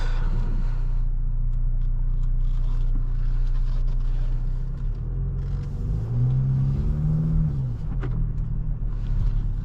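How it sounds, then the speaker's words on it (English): A 2024 Ford Mustang EcoBoost drives on the road, heard from inside the cabin as a steady loud low engine drone and road rumble, with a slight rise in pitch as it accelerates. "Let's get this car out on the road and see how it drives."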